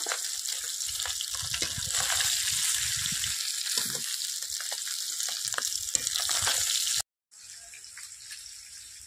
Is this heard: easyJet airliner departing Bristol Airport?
no